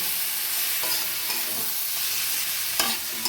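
Fried bitter gourd is stirred into a spice paste in a hot pan, giving a steady low sizzle with a few soft scraping stirs and one sharper clink near the end, close by and without talk.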